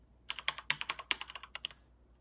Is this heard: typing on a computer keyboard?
yes